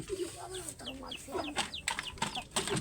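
Chickens and rabbits' surroundings: chickens cluck and chirp nearby at feeding time in short repeated calls, overlapping with light background noise.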